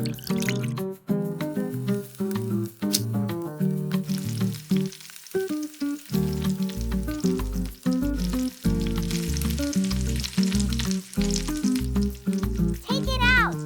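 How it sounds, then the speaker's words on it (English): Beef frying in cooking oil, a loud steady sizzle close up, with background music playing throughout and brief gaps and stirring touches. "Let's fry the beef."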